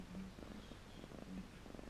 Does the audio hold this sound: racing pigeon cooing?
no